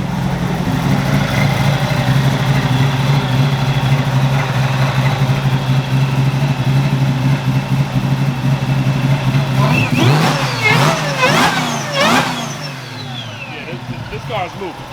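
A Cobra Jet pace car engine making around 900 wheel horsepower holds a loud, steady rumble, then revs in several quick blips before settling lower, with people talking over it.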